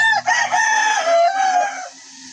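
A regular gray Firebird gamefowl rooster, Class AB, gives one loud, close crow lasting about two seconds. It holds steady and then trails off, and there is no other sound around it.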